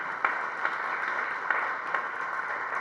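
Audience clapping at a Hindi poetry recital (kavi sammelan), a steady wash of applause sustained throughout, with a few sharper claps standing out, fairly distant and even in level.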